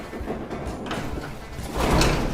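An old shop door that had been stuck, with its handle hung up, is forced open among rusty vehicles such as a 1960 International Metro, giving a broad scraping slide that swells into a louder rumbling push near the end.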